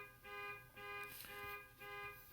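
A car alarm sounds outside, a steady electronic tone repeating in pulsing cycles at a distance, faint and alone.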